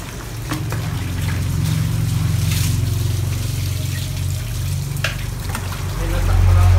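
Cold water is poured during an outdoor bath, making a steady, close splashing trickle that runs on throughout and swells louder at the end.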